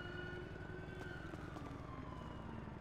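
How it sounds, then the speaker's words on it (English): Faint, distant emergency siren with a steady, slowly falling wail, heard low under a continuous rumble of background noise. "I just heard a siren."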